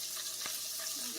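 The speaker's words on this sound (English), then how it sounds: "Water." Water runs from a kitchen tap in a steady splashing hiss, with a brief knock partway through.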